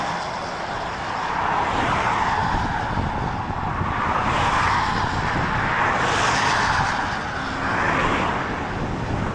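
Cars pass by in busy traffic on a road, a continuous loud roar of engines and tyres with several distinct swells as vehicles go past close by, no talking.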